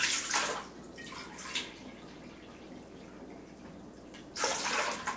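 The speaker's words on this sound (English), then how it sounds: "I'm gonna pour in 4 cups of water." Water pours into a KitchenAid mixer bowl for sourdough in two short splashy bursts at the start and a third near the end, with quiet trickling between.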